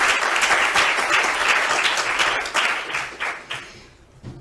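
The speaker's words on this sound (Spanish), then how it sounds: "Así que, un aplauso, por favor." An audience claps in warm, steady applause that gradually thins out and fades toward the end, heard close with no talking over it.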